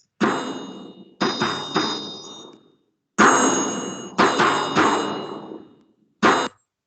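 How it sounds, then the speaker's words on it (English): Metallic percussion from a drum and triangles rings out in separate loud strikes, each bright clang decaying slowly, some hits layered in quick clusters, with short silences between groups. "we played a lot of these instruments like the drum, the triangles, other percussion instruments that sound like this."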